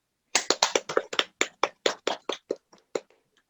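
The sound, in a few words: class applause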